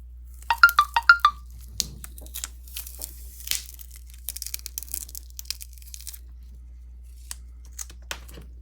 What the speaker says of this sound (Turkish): Kırılmaz koruyucu camı kaldıralım.